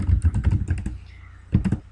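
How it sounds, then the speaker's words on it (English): A run of rapid clicking keystrokes on a computer keyboard, close and clear, pauses briefly and then resumes with a few more taps. "typing"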